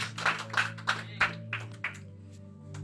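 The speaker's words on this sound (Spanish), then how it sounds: "¿Cuánto le pueden dar un fuerte aplauso al Señor?" Church congregation clapping for the Lord during a Spanish-language sermon: a handful of separate bursts of claps in a rhythmic pattern, fading after a couple of seconds over a steady low hum.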